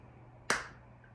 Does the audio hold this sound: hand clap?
yes